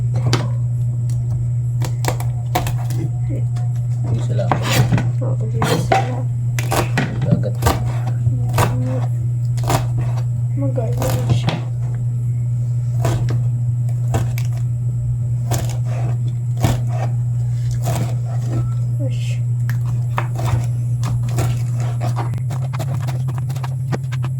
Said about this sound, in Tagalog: tayo po ay maghihiwa po ng ilokaw